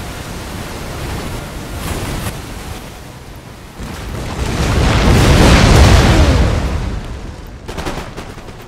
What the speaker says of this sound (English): Another, is that another barrage of rockets?